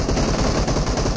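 Rapid gunfire in a Gun Game match of PUBG Mobile crackles loud and dense, a continuous burst of shots filling the short moment with no talk.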